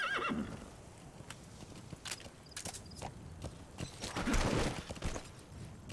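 A horse in the video game Metal Gear Solid V: The Phantom Pain whinnies, followed by a run of clip-clopping hooves and another neigh, all fairly close and clear over a quiet background.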